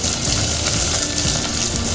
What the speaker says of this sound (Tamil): இப்போது இந்த வெங்காயத்தை சேர்த்துக்கிறேன்